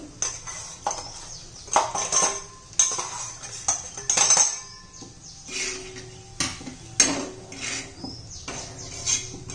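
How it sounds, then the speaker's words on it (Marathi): Chutney is tipped into hot oil on a tava and stirred, giving a series of sharp metallic clinks and scrapes of a spoon against the pan at irregular intervals, close by with no talking. "आता त्यात घालून घेऊया चटणी"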